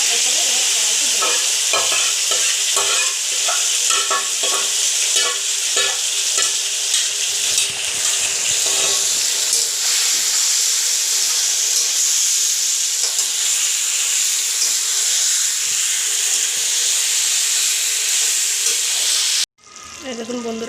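Marinated chicken fries with onions in a wok, giving a strong steady sizzle and hiss with stirring scrapes near the start, close and continuous until a sudden cut at the end.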